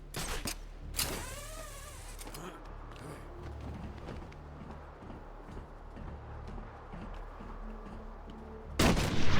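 Sniper fire in the video game Batman: Arkham Asylum, a sharp crack near the start and a loud report at the end, with quiet ambience between.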